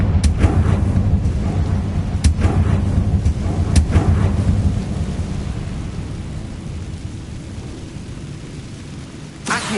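A Confringo blasting spell explodes in Hogwarts Legacy, a string of deep rumbling booms with sharp cracks near the start, a heavy low roar that slowly fades, then one last thump at the end.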